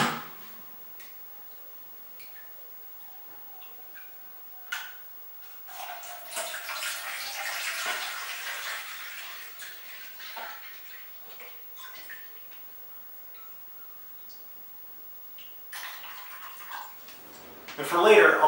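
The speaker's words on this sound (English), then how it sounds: "So I add my 1 liter of water." Tap water running and splashing as one liter is poured into an all-purpose pot while making chai, a steady rushing pour in the middle with quieter drips and clatter around it.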